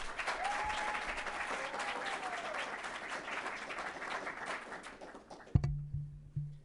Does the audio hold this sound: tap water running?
no